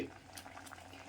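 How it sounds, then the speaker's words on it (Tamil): Thick ada payasam, a sweet pudding, bubbles and plops softly in a pot, a quiet simmering sound with a few distinct bursts. "அடை பாயசம் கொதிக்குது"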